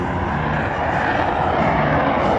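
An F-22 fighter jet at an air show makes a broad, constant roar with no break, loud and close throughout.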